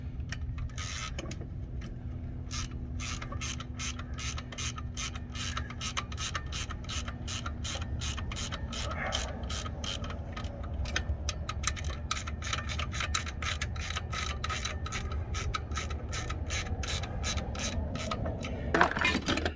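A hand ratchet clicks in quick, regular strokes while snugging a lock nut on fifth wheel landing gear, with short pauses between bursts, close and fairly quiet over a low background hum.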